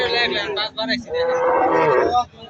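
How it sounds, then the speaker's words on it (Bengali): A cow at a cattle market lets out a loud, close moo, a brief break and then a longer drawn-out bellow, with nobody talking over it. "আমরা গরুহাটে চলে আসছি গরু কেনার জন্য।"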